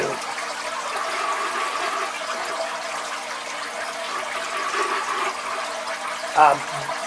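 Steady, gentle flow of running water in an aquarium tank, a continuous soft wash with a brief gurgle near the end.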